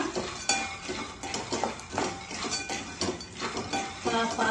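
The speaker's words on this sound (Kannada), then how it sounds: "ಸ್ವಲ್ಪ ಸ್ವಲ್ಪ ಹಾಕಿ ಹುರ್ಕೋಬೇಕು ಪಾತ್ರೆ ಕಾದ ತಕ್ಷಣ ಶೇಂಗಾ ಹುರಿಯೋದು" Peanuts roasting in a small batch in a heated pan while being stirred, producing a busy, close rattle of nuts scraping and clinking against the metal with a faint sizzle underneath.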